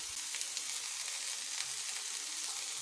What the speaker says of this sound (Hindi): तकरीबन 3 मिनट हो गए फ्राई करते हुए भिंडियाँ